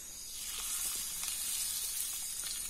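Garlic and red chili powder sizzle hard in hot oil in a pan while cooking a wild monsoon greens dish, a loud steady hiss that swells slightly and holds without any talk.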